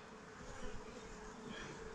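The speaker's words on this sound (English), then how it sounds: "look how many bees I got now" Honeybees buzz around a hive in a faint, continuous hum with a slightly wavering drone.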